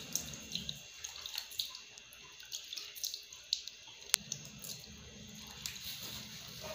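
Water splashed onto a surface under a kitchen sink to wet it before laying cement for tiles, a run of close, irregular splashes and drips with a sharp clack near the end.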